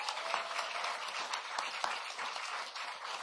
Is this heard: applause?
yes